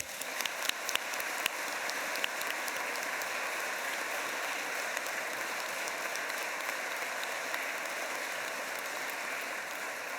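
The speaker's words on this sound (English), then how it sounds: "A biggest round of applause for yourselves." Sustained applause from a large crowd, steady dense clapping that holds at an even level throughout with no voices over it.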